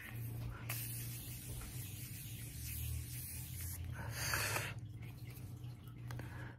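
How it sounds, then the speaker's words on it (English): Several short, soft hissing sprays of makeup setting spray close by, a few quick bursts in a row against a low background hum. "I'm going to use my Morphe setting spray first"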